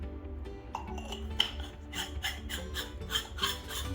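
A POTU flat burr hand grinder set coarser, grinding coffee with a rapid run of dry crunching, rasping strokes up close, growing denser and more rhythmic toward the end.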